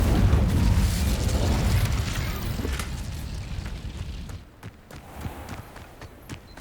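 An Incendio fire spell bursts in Hogwarts Legacy, a loud roaring whoosh of flame that dies down over a few seconds, followed by quieter footsteps and small pops.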